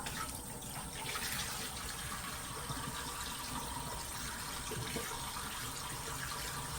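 Running tap water splashing steadily as a mud mask is rinsed off the face at a sink, a continuous close gush with small splashes and no talking.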